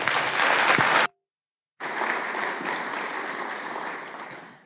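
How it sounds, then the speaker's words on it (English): Conference audience applauding a speaker, a loud burst of clapping that cuts off briefly and then resumes as sustained applause, slowly fading toward the end. "big round of applause for Leslie."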